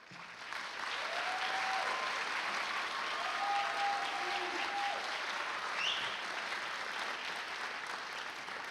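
Sustained applause from a school awards ceremony audience for standing 7th grade students, a dense even roar of clapping from a large crowd that swells after a quiet start and holds for several seconds, with faint voices and a brief whistle mixed in.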